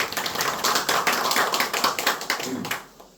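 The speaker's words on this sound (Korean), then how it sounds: "박수로 환영해 주십시오" An audience at an apartment reconstruction owners' meeting claps to welcome a guest. The dense, busy applause goes on steadily, then dies away quickly near the end.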